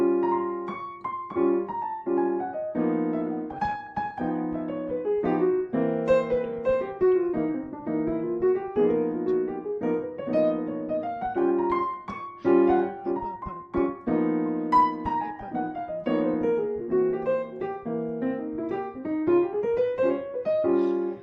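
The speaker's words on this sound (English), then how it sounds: "if you just play blues scales, you get a sound like this." Solo piano runs up and down bluesy scale patterns, with a steady flow of notes over low chords, played close and clear with no talking.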